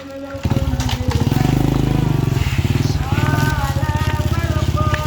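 A motorcycle engine revs up and pulls away, its throbbing exhaust rising in pitch through several throttle blips and staying loud and close throughout.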